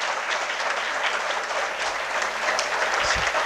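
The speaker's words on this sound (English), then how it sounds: "a round of applause for Dr." Audience applause at a dental science conference hall in Mangalore, honouring a chief guest doctor: steady dense clapping from a large crowd, fairly close and even throughout, with a few low thumps near the end.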